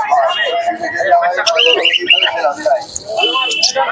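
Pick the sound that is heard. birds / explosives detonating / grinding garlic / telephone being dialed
birds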